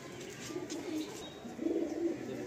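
Young pigeons in a rooftop loft give soft, low, rolling coos, faint and close, repeating a few times over a quiet background.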